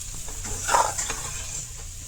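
A sweet mixture made from radish is slowly stirred in a pan, giving soft, gentle scraping and faint shuffling with a light sizzle, quiet and continuous over a couple of seconds.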